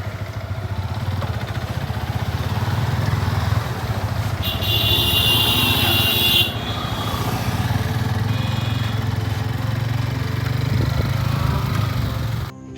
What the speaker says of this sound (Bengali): বাইকের চাকার ঘূর্ণনে ছুটে চলেছি পিচ ঢালা পথ ধরে